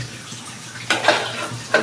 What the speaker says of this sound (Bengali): এখন এটা ঢেকে দিই যাতে সিদ্ধ হয়ে যায়।